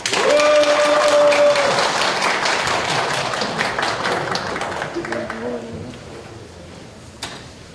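Applause from an audience at a company quality competition, greeting a presenting team from an assembly section: dense, loud clapping that gradually thins and fades over several seconds, with a few scattered claps and faint voices near the end.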